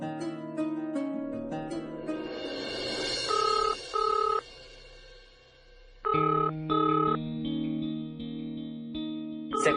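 In a Hindi TV drama scene, a telephone bell rings in repeated short bursts over a background music score with echo effects.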